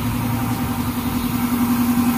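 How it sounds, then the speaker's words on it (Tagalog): A motorcycle engine idles steadily nearby, a constant low drone with a fixed hum and no revving or change over the short stretch. "Yan po ang motor ni Dudong Ruel."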